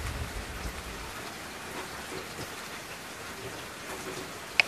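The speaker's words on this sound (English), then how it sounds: "It's a nice feeling out here when it's raining." Rain falling outdoors, a steady even patter of drops with a soft wind-like wash, continuous and fairly close, with one brief sharp tap near the end.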